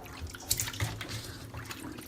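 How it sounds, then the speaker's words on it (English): Water pours and splashes from a bowl as raw chicken is rinsed and drained in a home kitchen sink, a steady close wash of liquid with a few brief clinks. "Now you have to drain the water, so pour it out."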